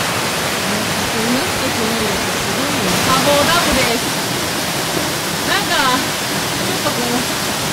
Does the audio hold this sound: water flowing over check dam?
yes